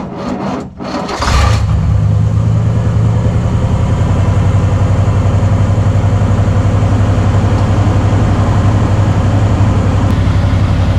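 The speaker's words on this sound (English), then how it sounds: "start it back up, and see if it starts a little slower than it did before" A Chevy 350 V8 with a tired starter turns over, then settles into a loud, steady idle that continues without a break.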